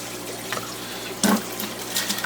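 Water drawn from an aquarium through a siphon hose, gurgling and trickling into a container with a few louder splashy bursts, close and unvoiced throughout.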